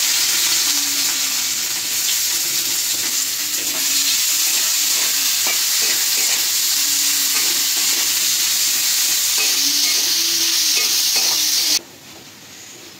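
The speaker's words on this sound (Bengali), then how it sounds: "পেঁয়াজটা বাদামি করে ভাজে নিচ্ছি" Garlic and onion frying in oil left from frying dried loitta fish, a loud, continuous close sizzle with rhythmic scraping stirs throughout, cutting abruptly to quiet near the end.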